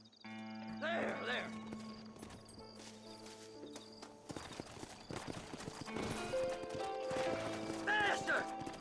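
Hooves clip-clop at a running pace in the video game Red Dead Redemption, with a horse whinnying and people talking over the hoofbeats.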